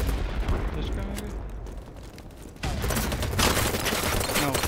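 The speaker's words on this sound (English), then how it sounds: "I don't know what's shooting." Gunfire in the shooter game BattleBit Remastered, a steady chatter of distant and nearby shots that thickens into heavy close firing halfway through, with a player talking over parts of it.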